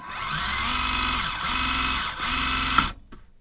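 A Tamiya Lancia rally RC car's electric motor whines in three steady, close bursts of throttle, each separated by a brief dip, before cutting to near silence.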